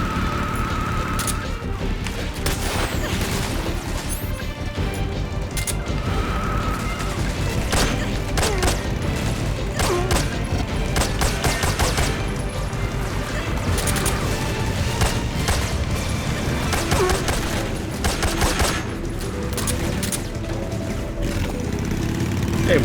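Gunfire crackles in bursts during Metal Gear Solid 3 gameplay, with repeated sharp volleys and clattering impacts over a steady game background, loud and close.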